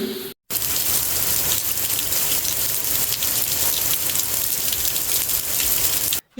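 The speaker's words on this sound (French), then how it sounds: "mais alors il pleut." Heavy rain pours steadily during a thunderstorm, a dense continuous hiss of drops hitting surfaces close by, broken only by brief gaps at the start and end.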